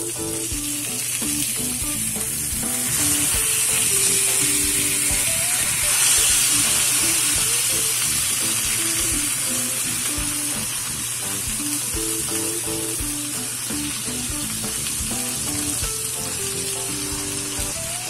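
Salmon fries in butter over low heat, giving a continuous dense sizzle and hiss with faint scraping underneath, steady and close.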